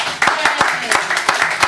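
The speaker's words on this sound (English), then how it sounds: "More applause" Audience applause after a poetry reading at a live event, a dense wash of clapping with a few sharper claps standing out, fairly close and continuous with no talk over it.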